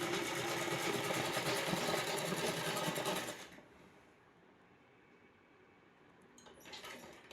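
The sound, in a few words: sewing machine stitching frock pleats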